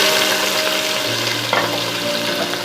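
Soaked moong dal frying with cumin in a pan for Bengali bhoger khichuri, a steady close sizzle with stirring scrapes and a brief clatter midway, no voices.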